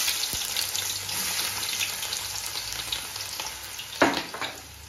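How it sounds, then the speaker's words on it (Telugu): Onions for a mango fish curry sizzle in hot oil with a steady hiss, and a brief louder scrape or clatter comes near the end. "ఇప్పుడు ఆనియన్స్ వేసుకుందాం।"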